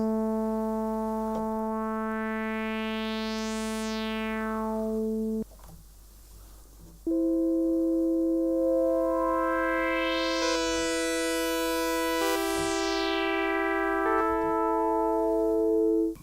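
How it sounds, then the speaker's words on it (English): Korg Minilogue synthesizer oscillator with resonance dialed in, a sustained bright harmonic tone that shifts pitch in steps, with a resonant sweep rising and falling through the overtones, loud and steady with a brief gap midway, no talking. "We can bring in some resonance."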